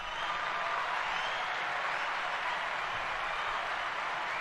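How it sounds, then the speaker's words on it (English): Steady, dense applause from a crowd, hands clapping continuously at an even level throughout with no voices standing out. "Let me give you a round of applause."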